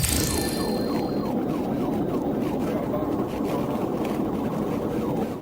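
Police siren wailing in a rising-falling sweep during a motorcycle pursuit, loud and continuous over steady engine and road rumble, with faint talk underneath.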